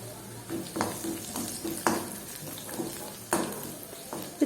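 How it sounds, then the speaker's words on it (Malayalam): Fennel, turmeric and chili flakes fry in hot oil in a pan, a steady close sizzle with a few louder stirring scrapes and clinks of a spoon against the pan, no voices. "ഇതിലേക്ക് നമുക്കൊരു 1/4 ടീസ്പൂൺ പെരുംജീരകം, 1/4 ടീസ്പൂൺ മഞ്ഞൾപ്പൊടി, 1 ടീസ്പൂൺ ചില്ലി ഫ്ലേക്സും കൂടി ചേർത്ത് കൊടുക്കാം."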